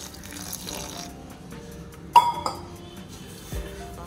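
Water runs from a kitchen tap into a sink, with a brief splash and a light clink of glass partway through, the kind of water used for kneading flour into dough for Mangalorean nevrio.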